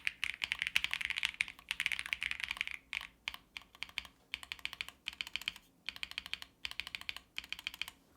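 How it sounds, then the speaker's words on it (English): Fast clacking of keys on a MonsGeek M1W aluminum mechanical keyboard in steady bursts with short pauses between, close and moderately quiet, no one speaking. "So the typing sound is absolutely gorgeous for all the keys"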